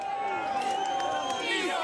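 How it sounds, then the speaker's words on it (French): A crowd of protesters shouts and cheers at night in Rome, with a continuous dense roar of voices and scattered louder cries. "Toute la nuit à Rome, les manifestants ont crié leur joie devant les différents centres du pouvoir."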